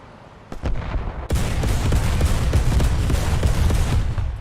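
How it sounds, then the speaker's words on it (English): Rapid, loud autocannon fire in War Thunder, a dense burst of repeated close shots hammering continuously after a couple of opening rounds, with no talk. "the cannon sound is pretty damn awesome"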